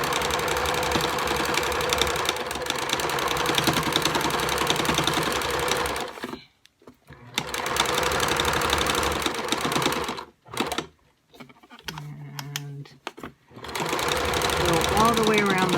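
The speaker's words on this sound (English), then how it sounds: "just top stitching a 1/4 inch away from every edge, and just lifting your presser foot and turning at each corner." Sewing machine top stitching a quarter inch from the edges of a fabric mask, a steady loud mechanical whir in long runs broken by short pauses at the corners while the presser foot is lifted.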